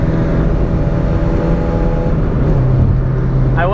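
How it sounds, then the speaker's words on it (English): A project car's engine strains under full throttle in third gear, a steady loud drone with a low rumbling roar that rises slowly in pitch without letting up. "This is third gear, floored. And it barely moves."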